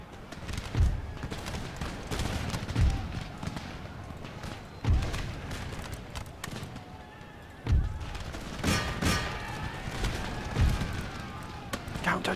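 Musket volleys in Empire Total War crack out as several separate heavy bursts over a battlefield din of horses and troops.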